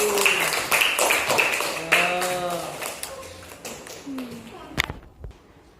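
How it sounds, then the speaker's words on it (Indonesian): A primary school class claps for a pupil named Alvin after a science lesson on the lungs, with scattered uneven hand claps under children's voices and chatter that fade out at the end. "Tepuk tangan untuk Alvin"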